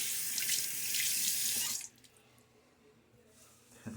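A bathroom tap runs into a sink for a final rinse after a wet shave, a loud steady hiss of water for about two seconds before it shuts off, leaving faint drips and quiet handling.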